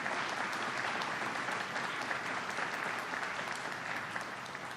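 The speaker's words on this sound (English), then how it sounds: "let's have another round of applause for the governor" An outdoor crowd at a highway groundbreaking ceremony applauds Governor Hochul, a sustained, even round of clapping that begins to fade toward the end.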